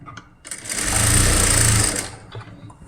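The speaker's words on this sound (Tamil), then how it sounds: "இதை டபுள் ஸ்டிச்சு போட்டுக்குவோம்" A sewing machine runs in one short burst stitching a shoulder seam on a garment neckline, a close, loud whirring hum rising and falling over about a second and a half between quiet pauses.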